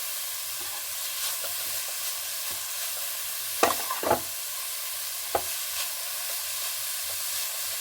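Carrot halwa frying in a pan gives a soft continuous sizzle and hiss, with a few sharper stirring scrapes and clinks near the middle, alone without talk.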